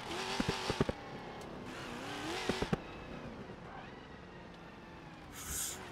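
Supercharged LT1 car engine in the BeamNG.drive driving game, running steadily with a loud, harsh tone, broken by a few sharp impact knocks and a brief hiss near the end.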